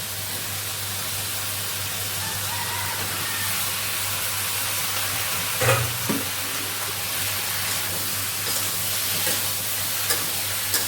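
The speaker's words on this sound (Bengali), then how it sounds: "আমি দিয়ে দিচ্ছি কচুর কচুটা দিয়ে দিচ্ছি এবার বেগুনও দিয়ে দিচ্ছি" Taro and eggplant hit a pan of spice paste that has been sautéed down, giving a steady, fairly loud frying sizzle throughout with a brief louder stir or splash partway through.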